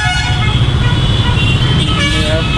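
Heavy city road traffic with car horns honking, a loud, close blare of overlapping horn tones over a rumbling engine and road noise, continuous throughout the short stretch.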